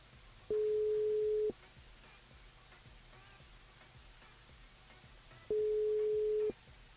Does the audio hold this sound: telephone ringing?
yes